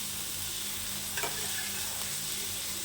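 Capsicum frying in a pan for fried rice, giving a steady, close sizzle with light stirring scrapes and no talk.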